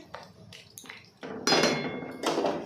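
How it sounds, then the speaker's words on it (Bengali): A metal lid clanks onto a pot of potato curry cooking with a little water, a few light clinks followed by two louder, nearby metallic knocks. "আবার আমি ঢেকে দিচ্ছি পাঁচ মিনিটের জন্য"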